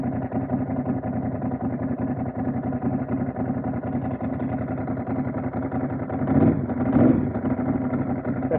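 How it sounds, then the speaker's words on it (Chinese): A Ducati motorcycle with a dry clutch idles steadily while warming up, a close, continuous low engine rumble with a brief rise in revs near the end. "干式离合器听起来就是不一样。"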